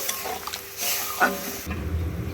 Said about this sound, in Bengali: গরম জলটা দিয়ে একটু নাড়াচাড়া করে নেব